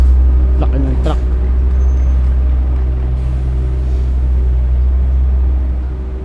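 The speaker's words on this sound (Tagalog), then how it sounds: "Laki ng truck." A big truck rumbles past up close with a steady, heavy low engine drone that holds for several seconds and eases off at the end. A voice speaks briefly near the start.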